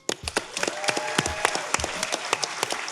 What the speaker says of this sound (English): Ladies and gentlemen, round of applause for Nicole.